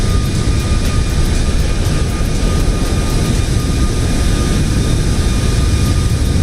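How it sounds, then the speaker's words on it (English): Tupolev Tu-154 Russian-made airliner on landing approach into Chengdu in Microsoft Flight Simulator, a loud, steady jet engine roar with a broad rumbling hiss and faint whine, holding constant throughout with no talk. "Tupolev 154 coming into land into Chengdu"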